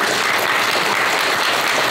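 Big round of audience applause at a shared-growth forum and tenth-anniversary ceremony in Korea, dense continuous clapping from a large hall crowd, loud and sustained for the whole stretch.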